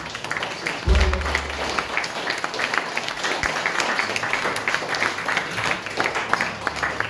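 Audience at the Rewind Festival 2022 in Lancaster applauds the Lancaster BID festival team, a steady wash of clapping that runs throughout, with a brief thump near the start and faint voices mixed in.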